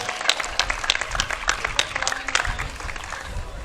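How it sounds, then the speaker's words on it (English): Applause from a crowd at an outdoor freedom rally, sharp uneven claps rising in bursts and then easing off toward the end, heard fairly close. "yes, give yourself a round of applause."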